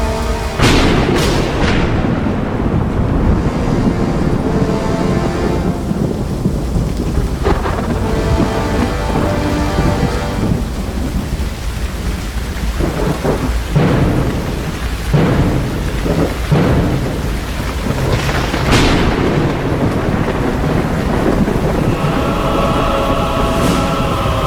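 Thunderstorm sound effect in a stage musical about farm animals, with loud rolling thunder and cracks over a steady roar of heavy rain, filling the whole stretch with no voices.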